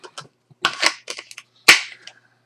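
A CZ75 P01 compact 9mm handgun is handled and pushed into a holster, producing a few close, crisp clicks and plastic rustles, ending in one sharper snap as it seats.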